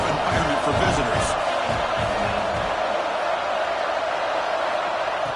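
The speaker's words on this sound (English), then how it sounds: "Listen to the crowd energy here in the early going" Packed college football stadium crowd at an FSU game, a dense continuous roar filling the space under a play-by-play commentator's voice.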